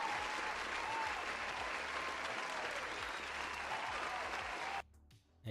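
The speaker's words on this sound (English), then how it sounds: "Wait, I forgot to give the last person an applause." A canned applause sound effect played on a livestream, dense steady clapping and crowd noise lasting several seconds before cutting off abruptly.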